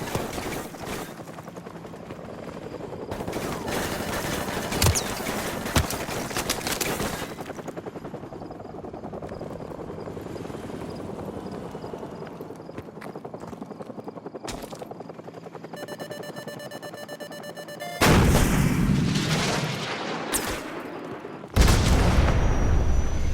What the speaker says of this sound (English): grab another stinger and fire again